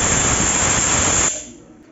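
A pressure cooker cooking tomato rice vents a loud, broad steam hiss for over a second, then cuts off sharply and fades to a quiet residual hiss.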